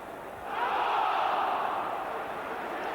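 A football crowd at a 1991/92 Everton v Leeds United League Cup match rises after a goal into a broad, sustained roar that stays loud and steady, heard from a distance within the stadium.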